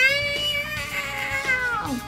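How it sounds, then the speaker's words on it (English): Cat meowing in a drawn-out, wavering cry that falls in pitch at the end, fairly close and clear, with no talk over it. "Mr. Kitty, Mr. Kitty, come on down."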